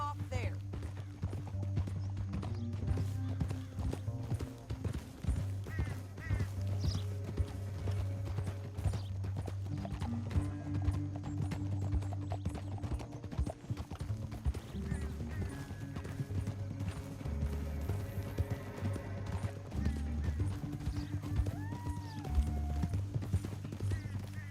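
Horses galloping in the video game Red Dead Redemption 2, steady clip-clop hoofbeats running throughout with occasional neighs, under a musical score and bursts of talking.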